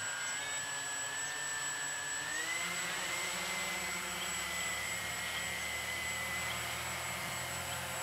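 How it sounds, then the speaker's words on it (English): A Walkera GPS drone lifts off and hovers, its motors giving a steady, high whine with a tone that rises slightly as it climbs, fairly faint and alone. "Lifting off."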